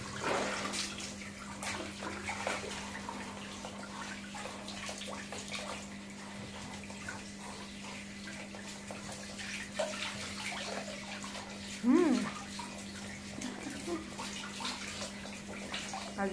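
Water splashing and running while a dog is bathed, a continuous wash of pouring and dripping close by with a brief louder splash near the end, under a steady low hum.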